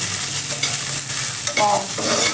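Green chilies frying in oil in a pan while being stirred for a green chili and peanut curry, a loud, close, continuous sizzle with scraping stir strokes and no talking.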